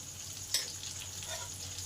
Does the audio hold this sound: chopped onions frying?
yes